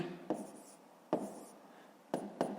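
A pen writes numbers on paper in quiet, short scratchy strokes, four distinct bursts separated by pauses.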